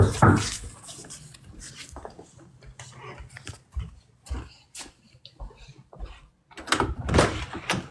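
Someone is at the front door of a house, with a series of irregular knocks and thuds at the entrance, some soft and some sharper, separated by quiet gaps.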